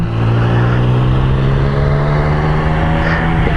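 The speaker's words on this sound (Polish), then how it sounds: "weź dodaj gazu, zobacz jak przyspiesza. Jak płynnie przyspiesza." A sport motorcycle engine, a Ducati Streetfighter V4S or Triumph Speed Triple 1200 RS, drones loudly and continuously as it accelerates smoothly, the pitch rising gradually with no talk over it.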